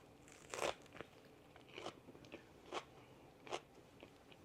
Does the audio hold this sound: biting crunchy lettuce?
yes